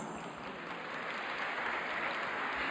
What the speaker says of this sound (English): Please give a warm round of applause to CBC Performing Arts Scholarship recipient Lauren Hobbs.